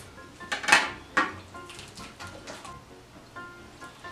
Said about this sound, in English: I'm going to cut it in half.